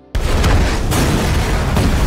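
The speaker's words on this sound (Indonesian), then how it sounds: "labnya meledak." A lab blows up in a film scene: a sudden loud boom bursts in after a brief silence, followed by a sustained roaring, rumbling blast with crackling debris that stays loud throughout.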